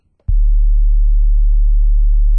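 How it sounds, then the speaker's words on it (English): A deep, pure synthesizer sub-bass tone starts abruptly after a brief click and holds steady and loud, smooth and unwavering to the end. "Them bass sounds, them bass tones is so clean."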